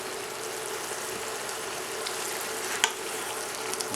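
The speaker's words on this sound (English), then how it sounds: "Cooking away nicely." Green beans braising in a pot of thickening tomato sauce make a soft, continuous bubbling sizzle up close. A single sharp tap near the end stands out, and no voices are heard.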